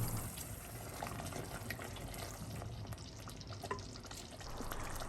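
Chicken gravy masala with a yogurt mixture just added, frying over medium heat in a pan: a low, continuous bubbling sizzle with faint stirring, fairly quiet and steady throughout, no voices.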